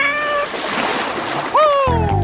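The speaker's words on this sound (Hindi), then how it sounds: "ये अच्छा ही है, हम ये प्यारी बिल्ली को ले सकते हैं।" A cat gives a couple of high, clear meows over splashy background noise, followed by a sudden loud low thump near the end.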